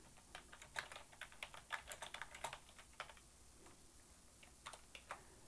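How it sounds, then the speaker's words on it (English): Fingers tapping out a new password on a Mac keyboard, a close, quiet run of light key clicks in quick irregular bursts, pausing briefly before a few final taps. "I'm setting it to 12345 because no one would think of that"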